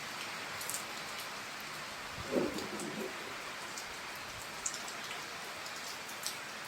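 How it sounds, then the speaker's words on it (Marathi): Heavy rain falls steadily in a soft, even patter, with a few louder drops and a brief low rumble partway through. "खूप वेळ झालं पाऊस पडतोय"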